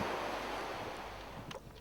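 Sea waves and wind hitting the shore at a coastal cape, a loud, steady wash of surf and gusting wind noise filling the whole short stretch, with no voices.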